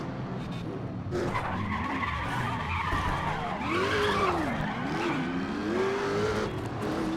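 A race car in Race Driver GRID spins out, tires skidding and squealing over a steady engine roar that rises and bends in pitch, loud and close throughout.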